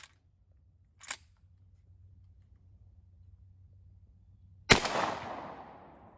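A rifle fires one round of Ultramax ammunition outdoors: after a quiet stretch and a faint tick, a single sharp crack rings out, loud and close, with a decaying tail.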